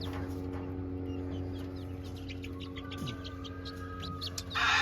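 Game hens with a rooster in a coop give soft, scattered clucks and chirps over a steady low hum, with a louder burst near the end.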